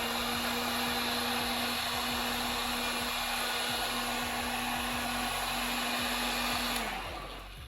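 A heat gun blows steadily while heating vinyl wrap on the hood scoop of a 2006 Subaru WRX, a constant close whooshing drone with a high whine that winds down near the end.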